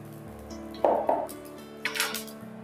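Fried pointed gourd is lifted out of a pan into a bowl, with a few sharp metallic clinks and scrapes of a spatula against cookware over a faint background hum.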